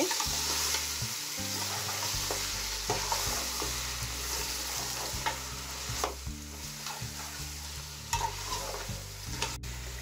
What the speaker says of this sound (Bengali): এখন আমি সব কিছু ভালো করে মিক্স করে নিচ্ছি মশলার সাথে।